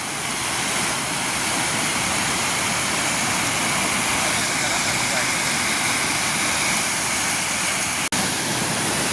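Rainwater rushes through a rocky hill in the countryside, a dense, constant roar of flowing water that holds steady the whole time, with one brief click near the end.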